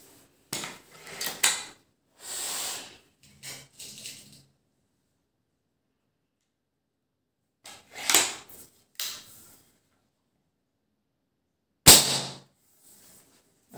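A Cometa Fenix 400 air rifle fires a single sharp, loud crack near the end, after scattered clatter and handling noises and a long silent pause.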